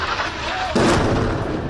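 A heavy, booming blast from a bombardment in the Israel-Gaza war erupts partway through, followed by rumbling debris and noise, fairly loud and close.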